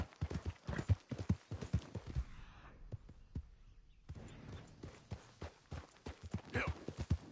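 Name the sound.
horse riding in video game Red Dead Redemption II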